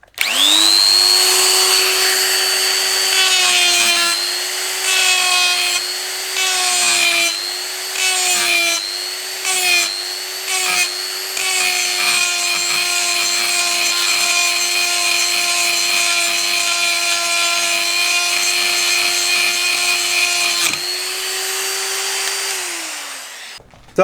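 A Makita GD0600 corded die grinder spins at high speed against old mild steel, a loud sustained whine with pitch dips and rattling chatter as the bit bites, winding down near the end.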